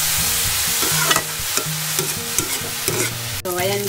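Ground pork sizzles in a hot pan while being stirred, a loud, steady frying hiss broken by scraping strokes of a utensil, close up with no talking.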